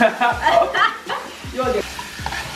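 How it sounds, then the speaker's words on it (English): Haitian griot pork sizzles in a frying pan while being stirred, a close, steady crackle with scraping strokes, and people talk and laugh lightly over it. "so go ahead and stir away"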